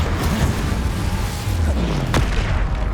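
An Incendio fire spell cast in Hogwarts Legacy bursts out as a deep, loud whoosh and rumble that roars steadily through the whole moment amid combat effects.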